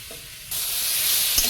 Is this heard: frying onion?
yes